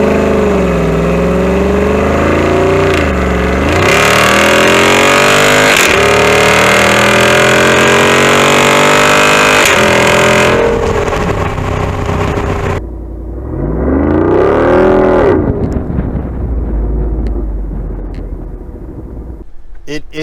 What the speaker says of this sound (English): 392 Rubicon is a fantastic vehicle to get out and play in.